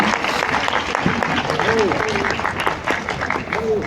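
An audience at a book presentation at a book fair applauds steadily with dense clapping throughout, a few voices and murmurs mixed in.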